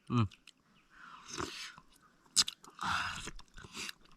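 Someone eating a lunch of wet rice close to the microphone, with soft bites and wet chewing that come in several short bursts between quiet pauses, mixed with low, hushed talk.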